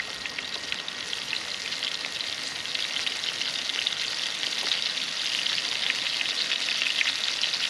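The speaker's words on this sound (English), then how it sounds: "Next, we're gonna add the mushrooms." Mushrooms frying in a hot pan for steak Diane, a dense, even crackling sizzle that holds steady and close throughout with no voices over it.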